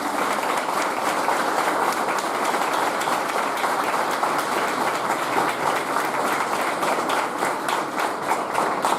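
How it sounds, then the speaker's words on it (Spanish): Strong audience applause for two honorees at an institute inauguration, loud continuous clapping from a full room that holds steady for the whole stretch with no talking over it. "Yo voy a pedir para él y para Enrique un muy fuerte aplauso"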